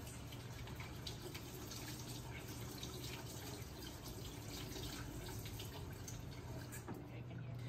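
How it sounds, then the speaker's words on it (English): A tap runs steadily into a kitchen sink in a classroom lab while hands are washed with warm water and soap, making a constant close hiss of flowing water with faint splashing. "you're gonna wash your hands with warm water and soap for 20 seconds"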